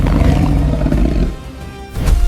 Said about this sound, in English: He lets out a contented grunt, a sound of reassurance to his family.